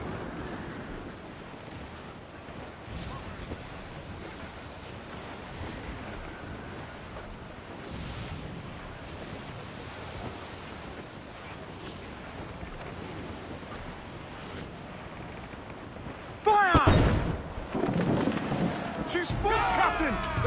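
Stormy sea in Assassin's Creed 4 Black Flag: a steady roar of wind and crashing waves around a sailing ship, with louder, sharper bursts near the end.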